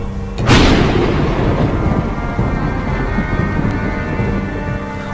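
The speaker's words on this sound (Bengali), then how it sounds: "উত্তর দিগন্ত কাঁপিয়ে একটা জোরে হুঙ্কার দিয়ে বজ্র বিদ্যুৎ পড়ল" A loud, sudden thunder clap cracks close by, then rolls into a long rumbling decay over steady rain-like hiss.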